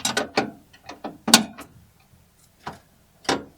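A wrench loosening a bolt on a Hesston 6550 windrower with a 6665 head, so the drive chain can be refitted in the field: several separate metallic ratcheting clicks in short bursts with pauses between, close and fairly loud, with no talk.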